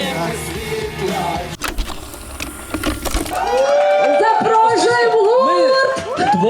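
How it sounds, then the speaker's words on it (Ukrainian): Applause from an audience at a live comedy and music show, a dense clapping wash for about three seconds that gives way to amplified music with singing. "Оплески, оп- оплески."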